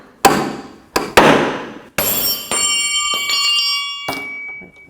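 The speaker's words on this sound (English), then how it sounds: "I'm actually going to use a pickle fork." Pickle fork hammered to pop a lower control arm ball joint off a 2008–2014 Cadillac CTS: a few sharp metallic hammer strikes, then ringing clangs that leave a lingering bell-like tone, close and loud.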